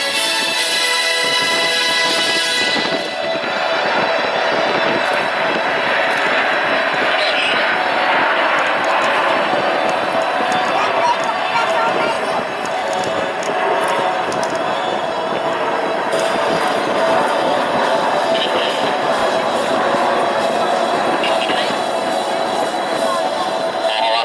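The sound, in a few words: Alpha Jet jets of Patrouille de France flying in formation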